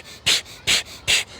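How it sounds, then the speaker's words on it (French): Forceful exhalation breaths in a systema breathing drill, inhaled through the nose and blown out through the mouth; three sharp, evenly spaced bursts about every half second, close and fairly loud, with quiet gaps between. "c'est la respiration explosive"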